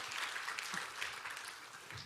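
Church youth congregation applauding to welcome a newcomer at a combined middle and high school Sunday service, a steady wash of clapping at a moderate, fairly distant level.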